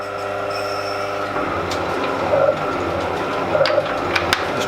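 A Clarkson Mk1 tool and cutter grinder machines a dovetail slide, giving a steady close mechanical hum and grinding drone with a few faint squeaks and clicks, no talking.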